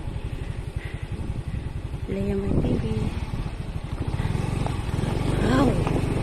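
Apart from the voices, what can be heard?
motorcycle engine passing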